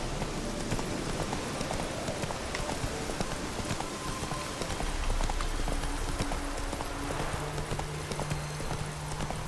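Horse hooves clip-clop steadily under a continuous rain-like wash of ambient noise in The Witcher 3, the hoofbeats a constant, even rhythm throughout with a low hum near the end.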